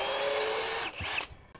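DongCheng 12V cordless brushless impact drill (DCJZ1250i) driving a screw into light steel framing, a steady close whirring buzz that cuts off abruptly after about a second, followed by a brief rattle.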